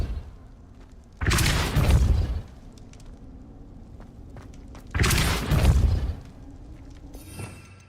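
Force-push spell cast in the Hogwarts Legacy video game, two loud booming bursts each lasting about a second, separated by a low ambient hum, with a faint trailing rustle at the end.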